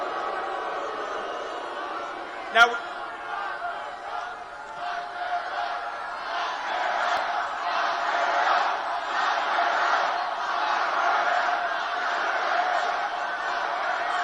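A large crowd at a Donald Trump rally in Fort Lauderdale, Florida cheers and roars in a sustained, swelling wall of voices after a brief sharp bang, growing louder and holding steady to the end.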